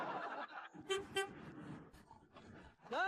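Car horns toot in short bursts as a motorcade of South Chamber of Commerce cars arrives in a village, a few honks spread across the moment with some background commotion.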